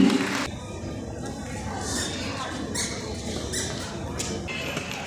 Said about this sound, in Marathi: जोरदार टाळ्या या दोघींसाठी